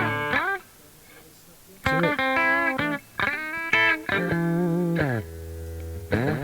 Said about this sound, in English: So let's go for the MXR compressor.